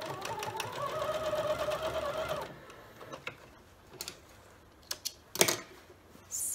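A sewing machine runs an edge stitch down the side of a quilt-as-you-go strip for a table runner, a steady rapid whir for a couple of seconds, then stops, followed by scattered clicks and handling knocks.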